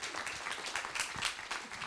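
A live audience applauds at a young entrepreneur of the year award ceremony on stage, steady dense clapping filling the hall throughout without a break.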